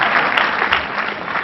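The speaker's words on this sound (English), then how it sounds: "There is a reason behind this clap" Audience applause at a medical lecture, a short dense burst of clapping from a room full of attendees, loud and steady throughout.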